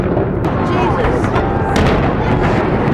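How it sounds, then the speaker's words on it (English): Fireworks explode close by, loud repeated bangs and crackles stacking into a dense barrage, with a person's voice reacting underneath. "I've never been that close to fireworks before."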